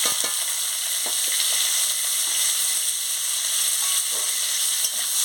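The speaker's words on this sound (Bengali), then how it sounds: "দিয়ে ভালো করে পেঁয়াজটাকে ভালো করে ভেজে নিচ্ছি" Chopped onion and green chili fry in hot oil with panch phoron and dried red chili for a pumpkin-flower chorchori. A loud, steady sizzle runs throughout, with a few faint stirring clicks underneath.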